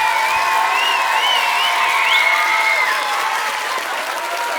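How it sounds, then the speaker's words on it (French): Audience applauds young performers after a show, a sustained wash of clapping with some cheering, with faint whistle-like tones heard above the crowd. "est-ce qu'on peut applaudir une dernière fois vos jeunes qui ont extraordinairement bien travaillé?"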